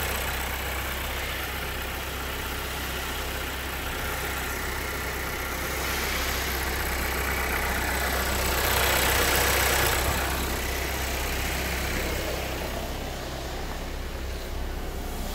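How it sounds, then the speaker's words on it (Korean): A car engine runs at idle after starting, a steady close rumble that swells slightly around the middle before settling back to an even idle. "차량 엔진 시동 상태 매우 양호. 엔진 시동 양호."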